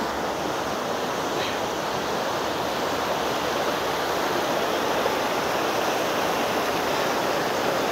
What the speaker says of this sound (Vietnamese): Nước rất là to luôn, rất là sâu rồi.